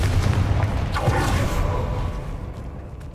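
A Confringo fire blast spell cast in Hogwarts Legacy: a loud, dense whooshing burst with booming low rumble that swells near the start and slowly fades over a few seconds.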